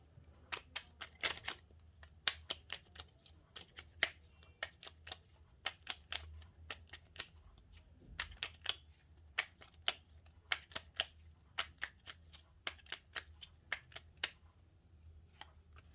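Tarot and oracle cards are shuffled by hand, giving soft, close riffling taps in irregular clusters that keep going for a long stretch in a quiet room.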